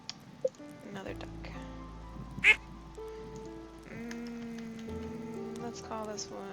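Ducks quack in a Stardew Valley farm scene, a few short calls over game music and soft rain-like patter, with one louder burst near the middle.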